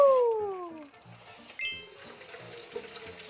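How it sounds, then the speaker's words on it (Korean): Cooked noodles for Japanese-style cold noodles are rinsed under cold running tap water in a sieve over a sink, a steady close splash with a few metallic clinks. "찬물에 잘 씻어."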